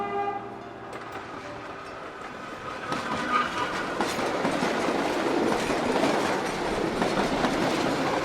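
A moving train rumbles with a rising rhythmic clatter of wheels on rails, growing louder and denser as it passes close by, with no talking.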